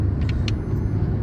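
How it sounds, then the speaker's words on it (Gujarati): A car driving on the road, a loud steady low engine rumble heard from nearby or inside the vehicle, with a couple of brief higher squeaks over it. "ગાડી જાય."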